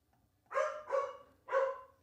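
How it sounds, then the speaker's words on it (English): A dog barks three times nearby, two quick barks followed by a third after a short pause, loud and clear over a quiet room with no talking. "Sorry about the dog."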